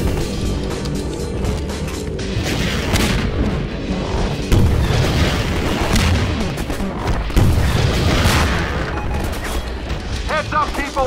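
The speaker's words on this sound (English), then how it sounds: "A rocket hit." Rocket explosions and heavy combat fire in Half-Life 2: Episode Two co-op play, with dense booming blasts and continuous gunfire filling the scene, loud and close throughout.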